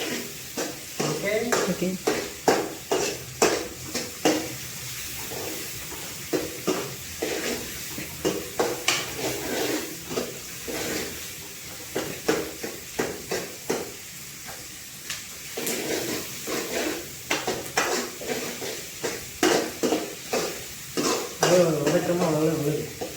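Onions sautéing in a pan until golden, stirred with a utensil that scrapes repeatedly and irregularly over a steady sizzle; the scrapes come close and loud, and a voice speaks briefly.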